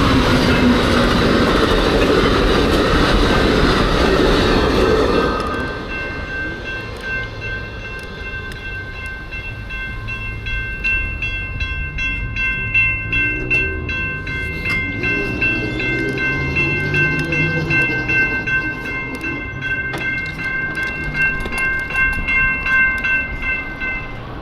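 An Amtrak train passes outdoors, a loud rumbling roar that fades after a few seconds into steady clickety-clack of the wheels and a sustained ringing tone, heard from nearby.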